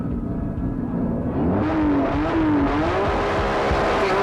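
A drag race car with a troubled front drivetrain launches off the line at a 2006 Thai drag meet: the engine idles rough and low, then surges into a loud, sustained, rising roar as it pulls away.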